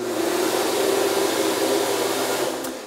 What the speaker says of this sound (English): We have an automatic hand dryer.